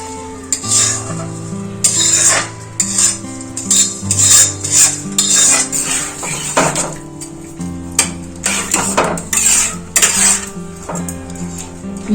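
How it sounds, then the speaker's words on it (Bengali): Mung dal poured into a wok of boiling sweet potatoes: bursts of pouring, scraping and sizzling with metal utensil clatter against the wok, close and loud, coming in uneven waves without speech. "এই কড়াইয়ের মধ্যে মুগের ডালটা ঢেলে দেব"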